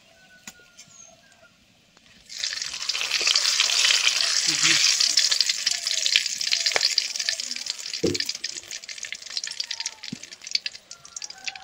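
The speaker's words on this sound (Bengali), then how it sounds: "তেলের মধ্যে গোটা গরম মশলা, তেজপাতা দিয়ে দেবো।" Whole garam masala and bay leaves hit hot oil in a kadai for a turkey curry, starting a loud, steady sizzle that runs without a break after a quiet opening, with a few knocks and clinks.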